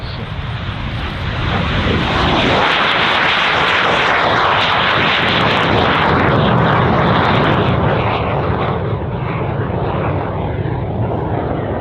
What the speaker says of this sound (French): regardez le T-33 Silver Star au décollage